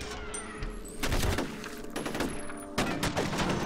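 Rapid gunfire from the shooter game F.E.A.R., with dense bursts and a heavy blast near the start, continuing in clustered volleys with brief gaps and a fresh loud burst toward the end.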